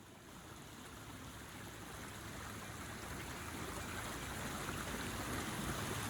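A pleasant creek flows through a forest, its broad steady rushing and trickling close and continuous, growing slightly louder throughout with no voices.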